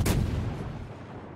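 A heavy naval gun salvo booms once in the World of Warships game, a loud sharp blast that rolls off into a fading rumble.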